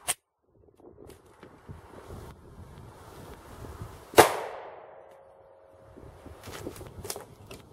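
A single sharp gunshot from a Glock 29 in 10mm Auto is fired outdoors at a Kevlar target mounted on a helium tank. The report rings out loudly midway and fades, with wind noise and faint clanks around it.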